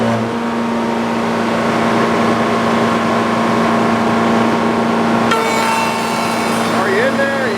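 A sawmill blade spins steadily at speed, a loud continuous drone with a strong steady hum throughout, shifting in tone near the end as it settles.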